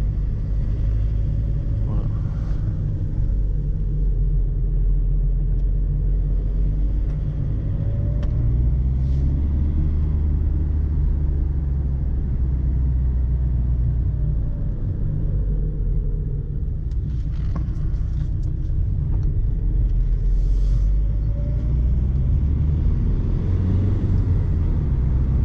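A Citroën C8 car accelerates, heard as a steady, loud low engine and road rumble from inside the cabin that continues unbroken throughout.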